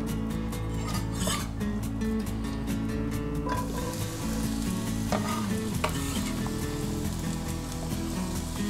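Onion sautéing in olive oil in a frying pan, a dense, continuous sizzle mixed with repeated scraping and rasping strokes from stirring, fairly close, with no talking.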